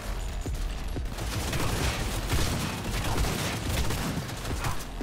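Rapid rifle fire in the video game Cyberpunk 2077, a dense sustained burst of close, loud shots with rattling impacts running the whole way through.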